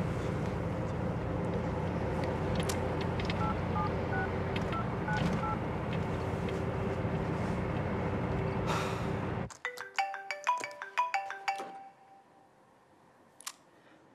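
A mobile phone dials to call a wife, its short keypad tones sounding in a quick uneven sequence after a stretch of steady background hum cuts off, with no talking over them.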